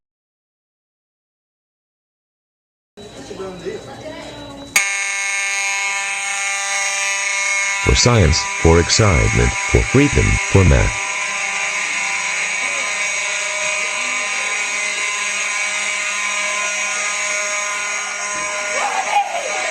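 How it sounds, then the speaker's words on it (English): A fire alarm at a daycare blares after being pulled, a loud steady electronic buzzing tone with a few rapid stuttering pulses early on, continuing nonstop after a short burst of speech. "I am going to pull down the fire alarm."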